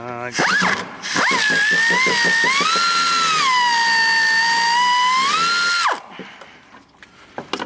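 A socket tool spins out a bolt on the thermostat housing of a 3.6L Dodge Grand Caravan: one continuous mechanical whir that rises in pitch, holds for about five seconds, then cuts off, followed by faint clicks.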